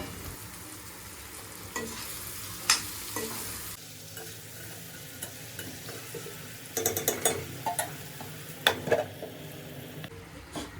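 Ripe tomatoes cooking in a pan with a soft, continuous sizzle, broken by repeated scraping stirs and clinks of a utensil against the pan throughout.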